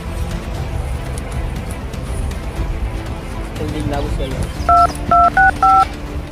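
Four quick telephone keypad tones sound in a row near the end, following a stretch of noisy background with engine-like rumble.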